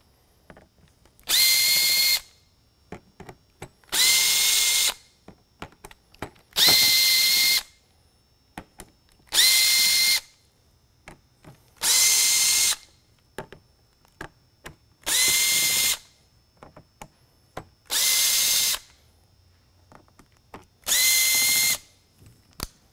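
Power drill backing out screws from the base of a Code 3 Frontier Mini light bar, eight short whirring bursts at a steady rhythm, each about a second long, with small clicks and handling noises between them.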